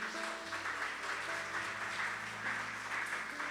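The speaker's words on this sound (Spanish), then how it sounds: "denle un fuerte aplauso al Señor." A church congregation claps in continuous applause on Independence Day, a dense steady patter of many hands at moderate distance, with sustained musical tones underneath.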